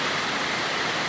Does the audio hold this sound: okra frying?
no